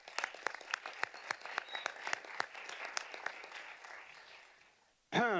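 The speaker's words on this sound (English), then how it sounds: "A round of applause for them." At a school board of education meeting honoring teachers, scattered individual claps ring out with clear, separate hits before thinning and fading away; a voice begins speaking right at the end.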